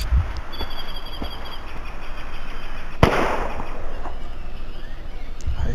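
A single sharp sniper rifle shot cracks out about midway in a dinosaur hunting shooter game on Android, standing alone against steady background game ambience with faint scattered pops.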